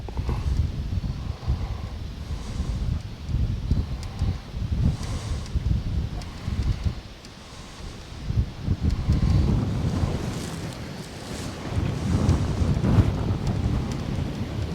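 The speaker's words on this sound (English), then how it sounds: "See what I mean about the wind?" Wind gusting continuously across the water at a fishing spot, a loud, steady low rumble and buffeting on the microphone with surges throughout.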